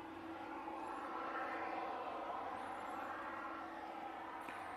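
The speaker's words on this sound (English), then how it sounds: "I see that plane coming in." A fixed-wing airliner approaching East Midlands Airport, its engines a steady distant roar building slightly in the middle, heard from outdoors with faint bird chirps on top.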